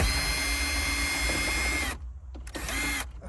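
A power tool whirs close and loud while removing the radio bolts from a 2013–2016 Chevrolet Trax dash with a 7mm socket, running continuously, then stopping in short stuttering bursts.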